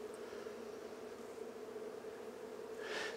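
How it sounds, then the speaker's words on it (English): Honey bees swarm inside a circle hive, giving a close, continuous droning buzz with a steady hum and a louder wingbeat surge near the end, with no talking. "A lot of bees in there."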